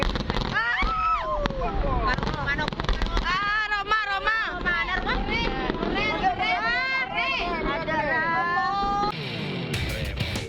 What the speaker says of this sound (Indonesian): Inilah video amatir saat sebuah balon udara meledak di Kecamatan Pengantenan